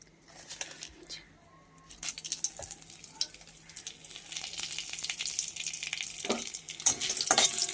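Bay leaf, whole dried chilli and panch phoron crackle and sizzle in hot oil for a Bengali jhol, a steady frying hiss with small pops that grows louder toward the end.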